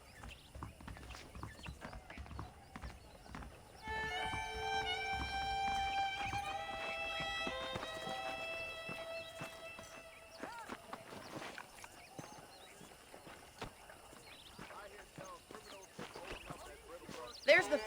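Steady clip-clop of horse hooves at a walking pace in the video game Red Dead Redemption, with music playing over it and occasional other sounds, moderately loud.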